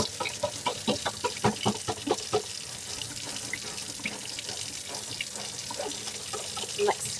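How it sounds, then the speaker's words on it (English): A stencil scrubbed free of paste under a running tap, water splashing steadily with a burst of quick rhythmic scrubbing strokes early on, then continuing flow with a few clucks of a chicken in the background. "I'm like scrubbing the stencil to make sure I get all of the paste off of it."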